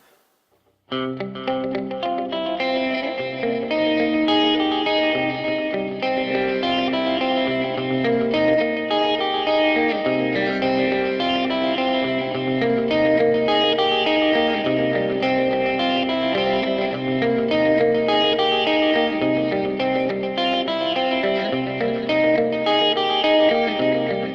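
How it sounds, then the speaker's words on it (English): Electric guitar chords through a Fender Mustang GT40 amp ring out continuously, washed in stereo tape delay repeats and a big spacious hall reverb that smears the notes together. "This is the same amp model, but with a stereo tape delay and a large hall reverb."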